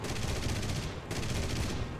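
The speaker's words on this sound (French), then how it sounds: "Ah, tu l'aimes ce canon de 30." A 30 mm cannon fires continuously in the video game War Thunder, a dense, loud, unbroken roar of rapid shots with a brief dip around one second before resuming at full intensity.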